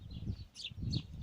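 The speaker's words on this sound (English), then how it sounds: "Listen to the birds." Birds chirp briefly in a Victorian-era public garden at Marine Gardens, Waterloo, Liverpool, with two short high calls over a low rumble of background noise.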